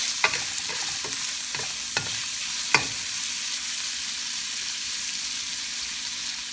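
Ingredients for pansit bihon, a sautéed Filipino rice-noodle dish, stir-fried in a pan: a steady close sizzle runs throughout, with several sharp spatula clinks and scrapes in the first three seconds before the hiss continues alone. No one speaks.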